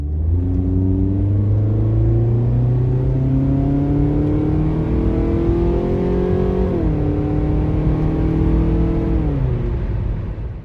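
Scion tC fitted with a Borla exhaust and short ram air intake, driving with a steady loud engine drone whose pitch climbs through gears, dipping at shifts around seven and nine seconds, no talk.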